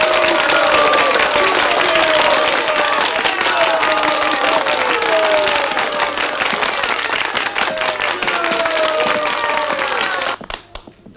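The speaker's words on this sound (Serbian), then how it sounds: "Aplauz za gospodina Golužu." Sustained applause from a crowd for Mr. Goluža in a 1982 film, dense steady clapping with murmuring voices and some cheering, tapering off near the end.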